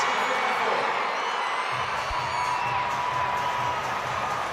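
A home crowd in a London athletics stadium at a para athletics world championship cheers and whoops steadily, a broad continuous roar with a sharp thump near the middle.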